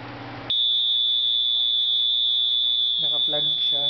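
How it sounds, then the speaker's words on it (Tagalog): A 555 IC security alarm circuit's buzzer sounds a steady, loud, high-pitched continuous tone that starts abruptly and holds throughout, with a person speaking briefly over it near the end. "Ngayon pag in-off ko yung ilaw dito sa circuit, tutunog yung buzzer."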